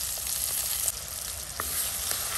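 Finely chopped onion hitting hot oil with cumin in a kadai for masala puri, a dense loud crackling sizzle with a couple of light stirring clicks, no voices.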